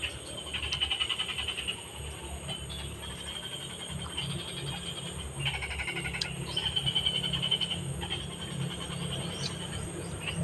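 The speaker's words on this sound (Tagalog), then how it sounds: "Ang daming palaka." Many frogs croak in a dense outdoor chorus, steady and fairly faint, with insects buzzing in the background.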